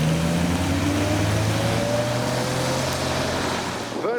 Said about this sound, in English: in keeping with the V10 theme, we now have the M6 Cabriolet leaving the show with the carbon bonnet